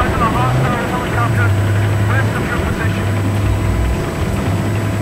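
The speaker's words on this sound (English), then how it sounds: "That chopper. Low and slow, I hope." Helicopter in a video game flying low and slow overhead, a steady rotor and engine drone running throughout the clip beneath the other game sounds, with a voice talking over it.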